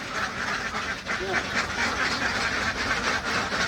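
Ducks on a duck farm quack in a noisy cluster while being fed beetle larvae, steady and fairly close, with faint voices mixed in.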